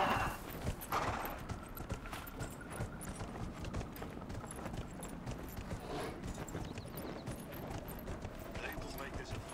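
Horse hooves clop in a steady walking rhythm in the video game Dragon Age Inquisition, fairly quiet beneath game music and a voice talking over it.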